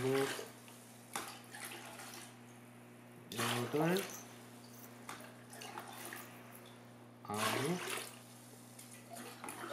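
Salt water and pure water poured into a 500 millilitre beaker for a saltwater aquarium water change: three splashy pouring bursts separated by quieter trickling, heard close up over a low steady hum.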